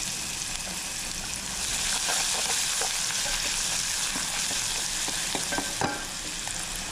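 Ginger sautés in a pan while beef pilau is cooked, giving a continuous close sizzle. Occasional stirring clicks and scrapes sit on top, and the frying swells slightly partway through.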